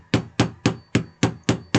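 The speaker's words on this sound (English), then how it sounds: "Now I'll take my trusty hammer again" Seven sharp, evenly spaced hammer strikes driving a thumbtack into a thick placemat, close and loud with a quick decay after each blow, no talking.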